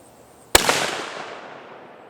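Savage Axis II rifle in 22-250 firing a single sharp shot outdoors, a loud crack followed by a long fading echo, close to the shooter.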